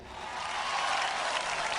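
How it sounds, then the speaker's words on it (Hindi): Audience applause at the Luck By Dance Season 2 dance show, a dense, steady wash of many hands clapping that swells slightly and holds loud and close throughout, with no talking. "एक बार जोरदार तालियां"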